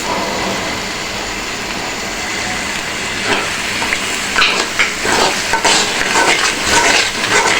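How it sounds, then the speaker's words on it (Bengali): Spice paste for roast chicken frying in a pan, with a steady broadband sizzle throughout and louder scraping stir strokes in the second half, close and fairly loud with no speech. "পেস্টগুলো দেওয়া হয়ে গেছে এখন এটাকে ভালো করে ভেজে নিব"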